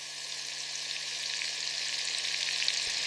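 Flour-coated chicken deep-fries in boiling sunflower oil for crispy broasted chicken, giving a steady, dense, hissing bubble that stays close and even throughout, with no voices.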